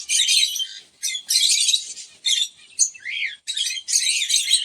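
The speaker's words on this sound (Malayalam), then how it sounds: "ആഫ്രിക്കൻ ലവ് ബേർഡ്സിലെ ലൂട്ടിനോ വെറൈറ്റിയാണ്." Lutino African lovebirds chirping close by in sharp, high-pitched bursts of tweets and squawks, coming in rapid clusters separated by brief pauses.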